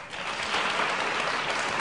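Studio audience of a daytime talk show bursts into brief, dense applause, a steady burst of clapping lasting under two seconds.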